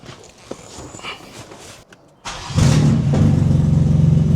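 Quiet shuffling and clicks, then a rebuilt BMW M4 Competition engine cranks and catches, settling into a loud, steady rumbling idle with slight revving.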